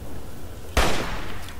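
A single sharp gunshot from the post-apocalyptic shooter Fallout 3 cracks out mid-clip against steady game ambience, loud and close, followed by a lingering rumble.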